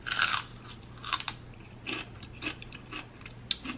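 Crisp, wet crunches from someone biting and chewing celery during a chicken wings mukbang, several close bites in an uneven rhythm with quieter chewing between, and no talk.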